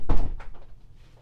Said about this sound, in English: Let me close the door because our bird is so noisy.